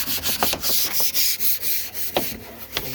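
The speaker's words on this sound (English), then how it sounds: "The old window brush. In case some of you kids don't know how to wash a window." An old window brush scrubs years of grime off a junkyard Fox-body car's window, sending out rapid back-and-forth rasping strokes up close, loud and steady, with no talking.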